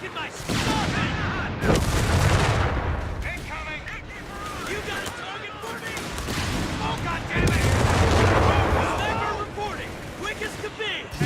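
Repeated heavy blasts and gunfire crackle through dense battle noise in Company of Heroes 3, with bursts swelling loudly around the start and again near the end, under speech.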